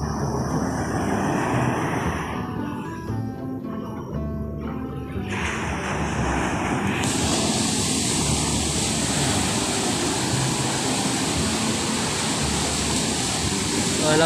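Strong sea waves break on a beach shore, a loud, continuous wash of surf that fills the scene; voices of people swimming are heard early on.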